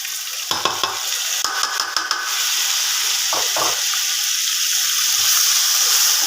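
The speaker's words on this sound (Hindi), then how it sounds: "इसके साथ यहाँ पे मैं जो है वो टमाटरों को ऐड करूँगा।" Chopped tomatoes go into onions frying in a pan, giving a steady sizzle after a few brief clatters of stirring, close and fairly loud, with no voices.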